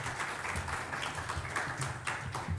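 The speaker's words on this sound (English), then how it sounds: "One more applause." Applause from a conference audience, a dense patter of many hands clapping at moderate distance, fairly soft and steady with a few sharper claps standing out.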